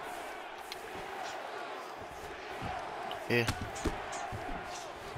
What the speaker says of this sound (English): Crowd chanting your name now.